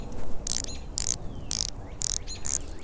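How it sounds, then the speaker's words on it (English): An Omega Seamaster SMP 300 dive-watch bezel clicks five times in a steady rhythm as it turns, each click sharp and close over low background rumble. "The click, let me let you hear it."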